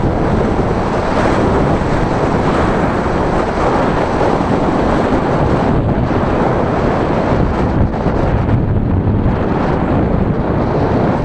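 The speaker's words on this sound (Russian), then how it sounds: "Хоть ветер малек обдувает" Loud, continuous wind buffeting the microphone during a bicycle ride in Thailand, a dense steady roar that fills the whole stretch with no pauses.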